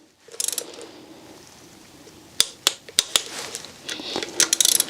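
Ratchet wrench tightening bolts in a crisscross pattern during a Mini Cooper N14/N18 engine rebuild, with quick bursts of clicking pawl and several sharp metallic knocks, close and loud with no talking.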